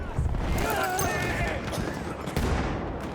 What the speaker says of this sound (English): I think someone might have been shooting through the floor.